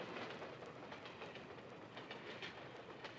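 A train rolls past on the rails at a crossing, a steady continuous rumble with faint rhythmic clatter throughout, fairly distant and unbroken, with no voices.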